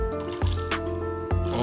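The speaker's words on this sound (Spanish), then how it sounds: "le agregaremos un chorrito a nuestro baño con arroz" Clear liquor such as aguardiente is splashed into a bowl of rice water, giving a few brief dripping, trickling spurts over a steady tonal background.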